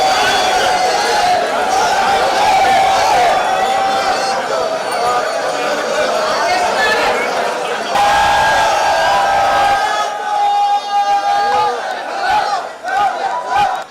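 A crowd of temple devotees and festival-goers cheers and shouts loudly and continuously during a flag-hoisting ceremony opening a temple festival, a dense wall of voices with whoops rising over it.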